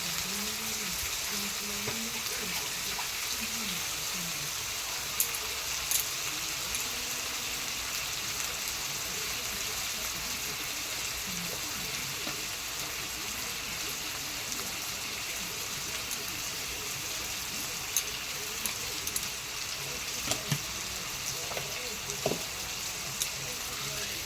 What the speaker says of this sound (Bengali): ভালো করে চর্বিটা ভেজে নেব